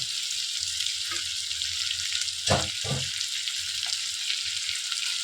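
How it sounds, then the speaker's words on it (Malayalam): Onion frying in a pan with carrot, capsicum and tomato to follow, a steady bright sizzle throughout, with a few scraping stirs and clinks of a utensil against the pan, close up. "സവോള ചേർത്തിട്ട് നന്നായിട്ട് ഇളക്കി കൊടുക്കാം"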